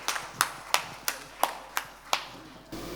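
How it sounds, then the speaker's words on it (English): A single person claps slowly at a sugar and ethanol industry conference session, about eight evenly spaced, sharp claps at close range that stop abruptly. "Big round of applause to Sood Saab."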